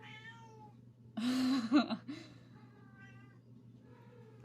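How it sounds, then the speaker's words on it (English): A pet cat meows loudly indoors, a couple of drawn-out, wavering cries close by, with a faint hum in the background and a brief word spoken. "my cat's freaking out for some reason"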